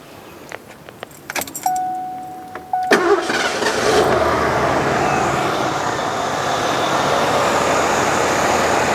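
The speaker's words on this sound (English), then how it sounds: "Nolan, you can back it up and we'll get this engine running." A 1987 Lincoln Town Car with a 5.0 liter engine: a few key jangles and clicks, a brief starter crank, then the V8 catches and settles into a steady, smooth idle, close and loud.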